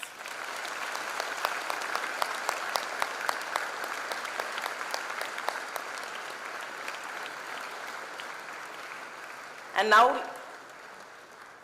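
Audience applause at a freshers' induction programme, a steady dense clapping that fills most of the stretch at moderate distance, with a voice breaking in briefly near the end.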